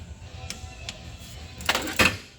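A torque wrench clicks while tightening the rocker arms on a 2010 Polaris Ranger 800 engine, a few sharp metallic ticks followed by two louder clicks near the end.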